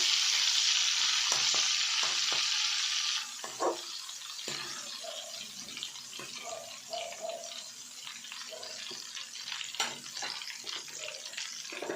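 Salt water poured into hot oil where plantain chips are frying sets off a loud, hissing burst of sizzle that settles after about three seconds into quieter bubbling with scattered stirring clinks.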